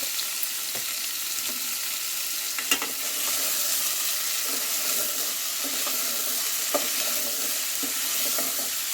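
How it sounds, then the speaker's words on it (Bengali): Pumpkin greens with salt sautéing in hot oil, a steady close sizzle with occasional stirring scrapes and small clicks throughout, no talking. "তো লবণটা দেওয়ার পর আমি আবারও তেলের মধ্যে কষিয়ে নিচ্ছি।"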